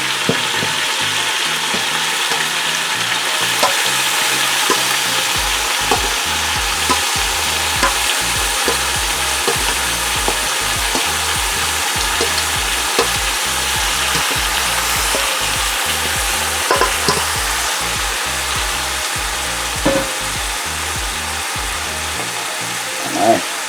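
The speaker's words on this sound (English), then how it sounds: "I'll be putting the marinade on now." Oxtail sizzles steadily in a pot as marinade goes in, a loud continuous frying hiss with repeated scraping and clinking of a spoon stirring the meat throughout.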